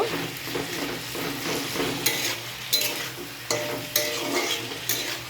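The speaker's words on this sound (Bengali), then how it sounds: "ভালো করে নুন হলুদের সঙ্গে আলুটাকে মাখিয়ে দেব।" Potatoes being mixed with salt and turmeric in a hot oiled pan with dried chillies, giving a steady sizzle with scraping stirs and a few sharp utensil clinks against the pan.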